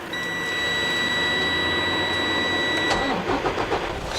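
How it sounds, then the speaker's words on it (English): A semi truck engine cranks and catches with the clutch in and brakes set, steady and close for about three seconds alongside a high electronic beep, then the diesel settles into a rougher idle. "Start the truck up."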